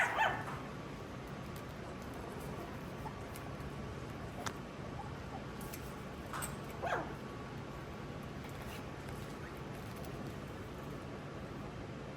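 Schnauzer puppies give faint, scattered barks and high yips over a steady background hum, with a few brief squeaky cries and no speech.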